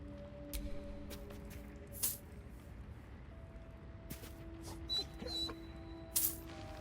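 Scratch, a dog in Baldur's Gate 3, makes faint soft whimpers and little yips at a few scattered moments over quiet game ambience with sustained tones.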